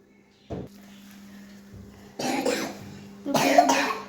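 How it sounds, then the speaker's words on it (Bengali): A young boy with a bad cough coughs in two harsh bursts at close range, with a quiet indoor hum between them. "খুব কাশি হয়েছে ছেলেটা"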